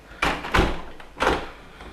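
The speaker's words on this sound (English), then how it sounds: "I'm going to close this door." Indoor door being closed, a few close heavy thuds and rattles in quick succession with a final firm knock, no talking.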